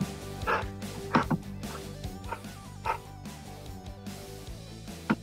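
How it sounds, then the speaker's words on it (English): A dog makes several short barks and yips at moderate distance, spread across a few seconds over steady low background noise in a room, with no talking. "there's my dog making noise. He'll probably start barking in a minute."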